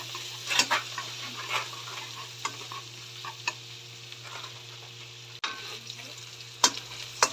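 Crushed garlic sautéing in melted butter in a pan, a steady gentle sizzle broken by occasional scrapes and stirs of a utensil against the pan, with a low hum underneath.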